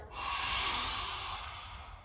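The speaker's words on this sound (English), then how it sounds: "when you exhale, you stick your tongue out and you breathe fire" A child's breath-of-fire yoga exhale with the tongue stuck out: a single forceful, hissing outbreath of about two seconds, close and alone.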